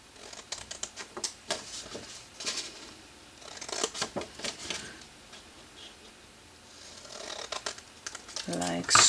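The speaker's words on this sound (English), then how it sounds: "Then cut just on the other side of the fold line." Scissors snip through folded card stock for a handmade wedding box, a run of crisp, close cuts in irregular bursts, with a louder rustle of paper at the very end.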